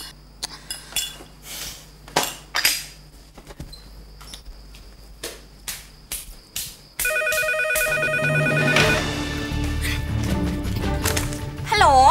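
A telephone rings in a Thai TV drama scene, its steady electronic tone beginning partway through and continuing loud and unbroken after a stretch of scattered clicks and light knocks.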